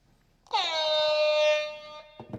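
A single loud air horn blast sounds at a sports stadium, a steady harmonic-rich tone held for about a second and a half before cutting off, with brief background noise on either side.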